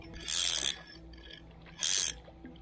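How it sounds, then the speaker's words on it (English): A centrepin fishing reel's clicker ratchets in two quick whirring bursts as a fish pulls line while trotting on a river, close and crisp against a quiet background. "I've put the clicker on just to add a bit of resistance."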